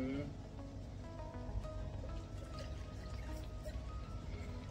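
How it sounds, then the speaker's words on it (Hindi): Water is poured into a protein shaker bottle, a steady running splash and fill lasting throughout with background noise. "इसमें 150 ml पानी डाल दिया है"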